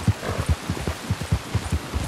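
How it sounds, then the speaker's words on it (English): Rain falls in the video game Red Dead Redemption II, a steady patter of drops with a soft thudding pulse running underneath, close and continuous with no voices. "God damn it, I don't like the rain."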